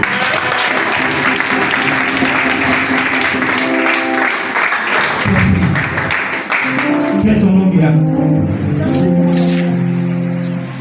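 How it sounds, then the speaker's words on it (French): A church congregation applauds and cheers loudly and continuously during a deliverance service, dense clapping spread across the room, with worship music tones running underneath throughout. "Acclamons Jésus."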